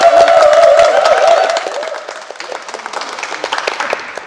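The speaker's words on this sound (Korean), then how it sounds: "박수와 함성 부탁드리겠습니다" An audience at a Seongnam city mayoral event bursts into applause and cheering, loud at first and then thinning into scattered claps and shouts as it fades over a few seconds.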